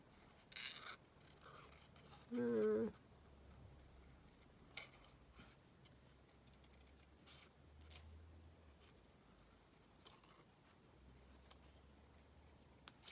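Scissors cut paper for a junk journal in a crafting session: a sequence of soft, close snips and rustles at an uneven pace, fairly quiet, with no talk.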